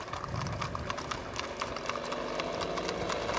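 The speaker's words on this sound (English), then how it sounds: "Here some ranchers are moving their herd of horses to another location." A herd of horses driven by ranchers near an Icelandic turf house clatters past, a steady patter of many hooves in irregular rhythm at moderate distance, with no talk.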